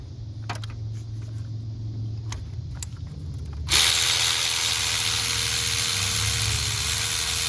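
Removing a 13 mm bolt on a 2007 Cadillac DTS during a water pump job: a few sharp ratchet clicks, then a loud, steady power-tool whir that runs continuously to the end, up close with no talking.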